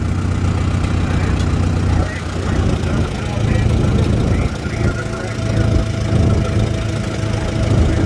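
An antique tractor engine runs at an outdoor antique farm equipment show, a steady mid-pitched chugging drone that holds for the whole stretch at close range, with people talking over it.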